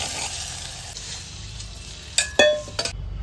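Green masala with garlic and cumin sizzles in hot tempering oil, a continuous frying hiss broken near the end by a few clinks of a spoon stirring against the pan.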